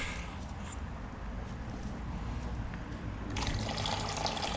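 Coolant drains from a KTM 390 motorcycle radiator after the drain bolt is out and the cap removed, a steady close liquid trickle and splash that grows brighter and stronger near the end.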